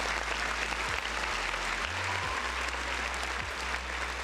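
A round of applause plays as a sound effect, a steady dense clapping that holds at an even level throughout.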